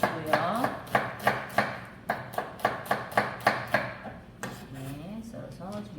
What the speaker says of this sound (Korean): 양파 채 썰어 주시고요.